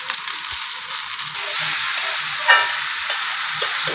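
Diced potatoes and pointed gourd sautéing in hot oil with turmeric and spices, a steady close sizzle and hiss with a brief sharp clink of a spoon stirring partway through, no voices over it.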